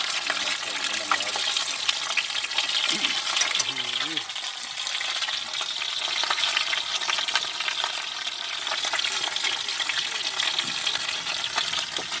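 Food frying in plenty of oil over a makeshift outdoor kitchen on a fishing platform, a steady loud sizzle and crackle with brief voices murmuring underneath.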